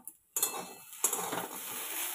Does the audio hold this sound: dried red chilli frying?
yes